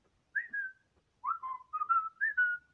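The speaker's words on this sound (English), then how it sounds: "It's a low G whistle made out of plastic." A low G whistle made of plastic plays a short tune of a few clear, breathy sustained notes, heard close and alone after a brief silence.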